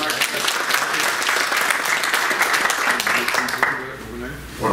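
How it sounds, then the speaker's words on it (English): A workshop audience applauds in a steady, dense wash of clapping, with voices murmuring and talking underneath before the applause thins out near the end. "let's give him a round of applause"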